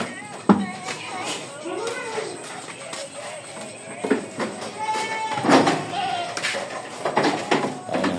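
Hungry goats in a pen at a farm camp bleat repeatedly, several nearby wavering calls overlapping, with a sharp clank and people talking in between.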